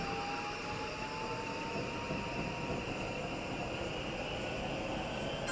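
A Yamanote Line train in a video game rumbles steadily as it departs Shibuya, with a low continuous drone and a faint rising electric whine, heard close and without talk.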